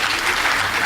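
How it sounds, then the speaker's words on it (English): Audience applause at a school debate competition between Nakuru School and Annester Precious Girls, a steady, dense clapping from a crowd that holds constant and loud for the whole second. "Please give them a round of applause."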